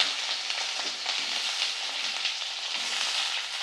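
Potato and onion frying together in a pan for a mourola fish chochori, a steady dense sizzle that holds evenly throughout with no talking.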